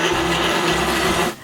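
A blender whizzes white onion, ginger and garlic into a smooth purée, a loud steady motor whir that cuts off abruptly near the end.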